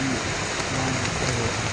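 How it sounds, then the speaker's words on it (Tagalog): Heavy rain pours down steadily, a dense, loud, continuous hiss of water on surfaces with no voices. "sobrang lakas ng ulan pa rin"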